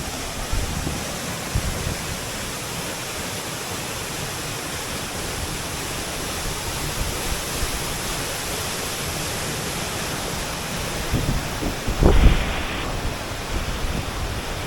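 Steady, close roar of Chohie waterfall in the Great Himalayan National Park, continuous rushing water filling the whole stretch with little change in level.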